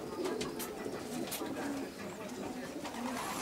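Racing pigeons cooing inside a loft, soft low coos repeating every second or so at a modest distance, with a few brief sharp sounds and the general hum of the room around them.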